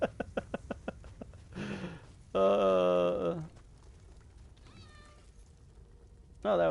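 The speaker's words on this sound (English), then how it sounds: "Oh, that was my cat." Domestic cat meowing inside a video game session, two or three clear, close meows with harmonic stacks standing out after a run of short clicks, separated by quieter stretches.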